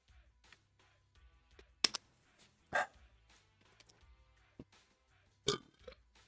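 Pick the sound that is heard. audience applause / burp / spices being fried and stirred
burp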